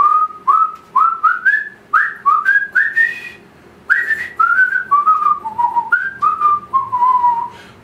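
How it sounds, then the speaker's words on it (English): A person whistles the tune of Row, Row, Row Your Boat, a clear melodic run of short phrases with brief pauses, close and fairly loud, with no talking. "You can whistle as well."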